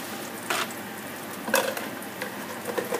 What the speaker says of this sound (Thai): ผัดให้หอมนะคะ เกลือลงไปจ้า